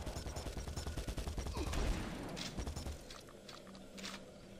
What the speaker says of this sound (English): I hear more fire going on